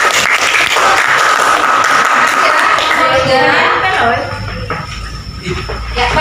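A classroom group of students applauds a presenting group. Dense, loud clapping runs for about four seconds, then thins into quieter room noise with some murmuring voices.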